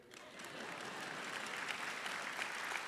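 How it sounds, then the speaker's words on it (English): Brief applause from a commencement audience, a soft, distant, continuous patter of many hands clapping that builds slightly over a few seconds. "You can put applause"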